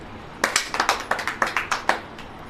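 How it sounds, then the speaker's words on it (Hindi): A church audience claps along in a quick burst of about a dozen sharp, close hand claps over roughly a second and a half, with no talking. "ताली बजाओ।"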